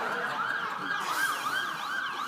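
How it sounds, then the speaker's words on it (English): Emergency vehicle sirens wail past outdoors during a graduation ceremony, a steady rising-and-falling electronic tone repeating for a couple of seconds, fairly clear with no talk over it. "Just like those sirens going by."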